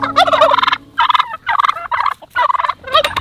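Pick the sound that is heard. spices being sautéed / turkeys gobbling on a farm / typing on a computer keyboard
turkeys gobbling on a farm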